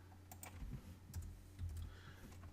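Computer keyboard typing close by while code is cut and pasted in a Python lesson, a few quick clustered keystrokes with brief pauses over a low steady hum, and no voices.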